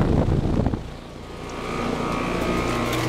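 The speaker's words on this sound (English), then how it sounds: "you can hear it's got a scroll compressor and a big old seat" A 2010 American Standard Heritage 15 heat pump with a scroll compressor and R410A refrigerant running in cool mode outdoors, giving a loud, steady whooshing roar of fan and compressor close by.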